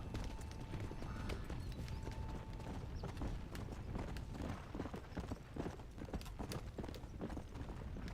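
Steady, quiet clip-clop of a horse's hooves at a trot in the video game Red Dead Redemption: Undead Nightmare, with the horse on fire, keeping up an even rhythm for the whole stretch.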